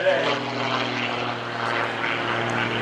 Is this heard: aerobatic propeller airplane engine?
yes